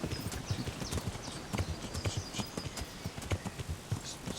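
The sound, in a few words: horse hooves in Kingdom Come: Deliverance video game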